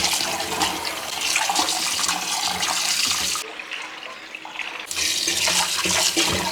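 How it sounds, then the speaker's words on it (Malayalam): Raw chicken being washed in running water in a kitchen sink or basin, a steady loud splashing and tap flow with a brief quieter pause midway before the rushing water resumes. "ഒരു 3-4 പ്രാവശ്യമെങ്കിലും കഴുകിയെടുക്കട്ടെ."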